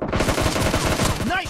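Rapid automatic gunfire in the BGMI battle-royale video game: a loud, dense stream of closely spaced shots rattling without pause, upfront and dominant, with no voices over it.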